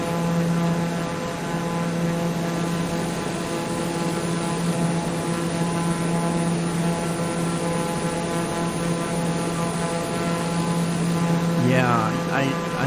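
Steady droning hum of a TBM930 turboprop engine in Microsoft Flight Simulator 2020, a constant buzzing whine with a fixed pitch that holds for the whole stretch, and a brief voice at the end.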